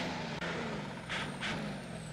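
Engine drone of a truck in the mobile game Heavy Tires, a steady low rumble with a couple of short hissing air bursts, like air brakes, partway through.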